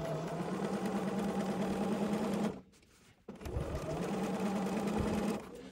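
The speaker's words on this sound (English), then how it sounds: "I sink it in first if you have needle down, or you can use your hand wheel to sink your needle into that corner." A sewing machine stitching up a seam, running at a steady buzzing hum, stopping briefly for about half a second, then starting again at the same pace, close by with no voice.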